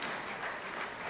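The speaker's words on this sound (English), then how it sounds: "And you can hear the crowd in the background." Crowd noise at a STIHL Timbersports rookie competition, a faint even wash of distant cheering and applause with no distinct claps standing out.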